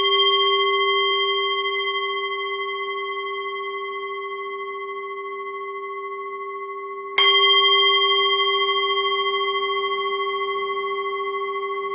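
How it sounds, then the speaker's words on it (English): A meditation bell is struck twice, each strike ringing with a clear sustained metallic tone that slowly fades, the second strike coming about seven seconds after the first, in a quiet setting with no talking. "I will just sound the bell and we can get started."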